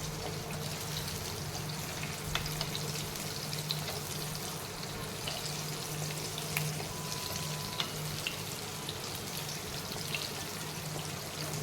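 Fish frying in a pan with only a little oil, giving a steady, even crackling sizzle that holds at the same moderate level throughout with no voices.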